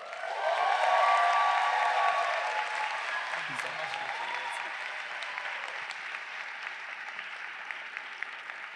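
A large audience at a Berkeley Law commencement breaks into sustained applause for an incoming graduate speaker, loud at first and then gradually thinning into a scattered patter as the clapping fades.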